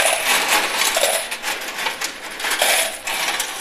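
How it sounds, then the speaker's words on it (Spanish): A steady cascade of coins spills into the metal tray of a coin pusher arcade machine, a dense, bright jingling clatter in rolling waves at close range. "Y a llenarnos nuestra bandejota de monedas, ¿eh?"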